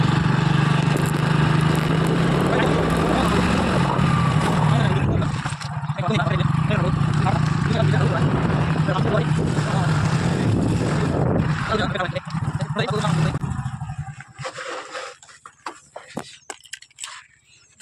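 A motorbike engine drones steadily and loud while being ridden toward a farm field, a low continuous hum that dips briefly mid-ride before fading out at the end.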